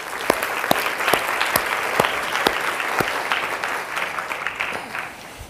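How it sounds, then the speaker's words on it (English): An audience of school leaders at a talk gives a round of applause, a moderate crowd clapping with some sharp individual claps standing out, growing more scattered toward the end. "Give him a big round of applause."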